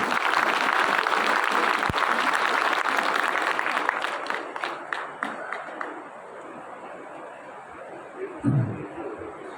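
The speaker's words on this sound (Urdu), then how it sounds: "ہر بندہ اپنے برابر والے بندے کے لیے ایک زوردار کلیپنگ کر دے پلیز" An audience claps together at a property project launch, loud dense applause that gradually thins out into scattered claps and murmuring, ending with a low thump.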